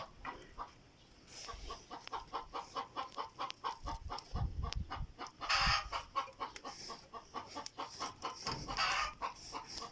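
Backyard chickens cluck in a rural Thai village flock, a steady run of close, repeated clucks with a few louder bursts and low rustling, no talking.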